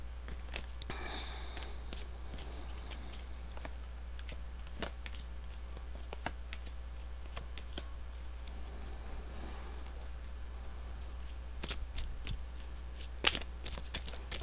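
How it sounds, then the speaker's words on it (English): Tarot-style zodiac and goddess cards handled and set down on a surface, with soft shuffling, sliding and light tapping clicks scattered throughout, quiet and close, over a steady low hum. "I'm also going to put down a couple zodiac cards"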